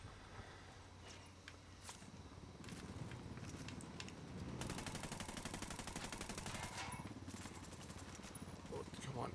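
Minigun fire in Ghost Recon Wildlands on Xbox One: sustained rapid automatic bursts, a dense rattling stream that swells in the second half, mixed with game noise and a talking player.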